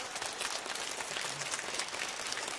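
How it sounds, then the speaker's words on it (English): An audience applauds a building crew, a dense, steady wash of many hands clapping that stays even in volume for the whole stretch. "a round of applause?"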